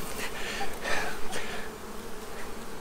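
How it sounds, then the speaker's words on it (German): Honeybees drone steadily around a hive, the buzzing close and continuous with individual insects flaring louder as they pass near. "meine Bienen hier"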